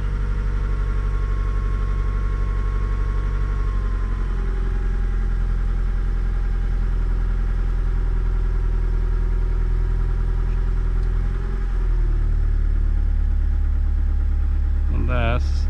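A truck engine idles at 1000 RPM after a dead cold start, a steady low mechanical rumble with small shifts in pitch and a brief rattling burst at the end.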